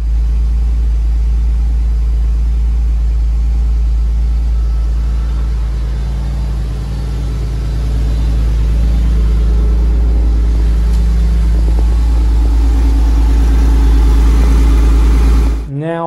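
A project car's engine runs steadily and loudly for the whole stretch, a deep continuous drone that swells slightly before cutting off abruptly at the end.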